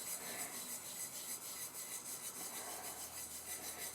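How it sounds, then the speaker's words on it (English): Steady, even rubbing and rasping as rough spots are worked off a glitter-coated tumbler in circular motions, continuous and close throughout. "you just rub off these rough spots"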